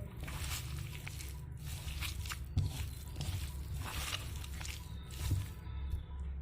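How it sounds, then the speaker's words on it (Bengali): Boiled banana flower being squeezed and mashed by hand, soft wet squishing and squelching sounds repeating close and faint, with occasional small pats and presses. "এবার হাতের সাহায্যে একটু চেপে চেপে মেখে নেব"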